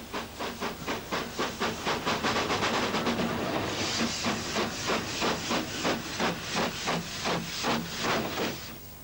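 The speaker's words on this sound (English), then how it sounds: "a ride on a steam train is much more fun" A steam train puffs out a rapid, even run of loud, hissing chuffs, close by and continuous, with no talking.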